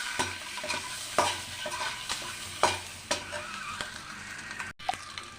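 Four scored boiled eggs are tossed in chili powder in a hot pan, giving a steady sizzle of frying with repeated scraping stirs from a spoon, close and fairly loud.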